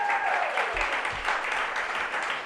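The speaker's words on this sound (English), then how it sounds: "let's give Antonice a big round of applause" Applause for Antonice at a Washington, D.C. mayoral event with Mayor Muriel Bowser, a steady wash of clapping from a crowd lasting the whole moment at even loudness.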